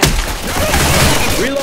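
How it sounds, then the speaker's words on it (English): A shotgun blast in the video game Left 4 Dead 2 opens sharply, followed by continuous in-game noise and voices underneath. "Going with the shotgun."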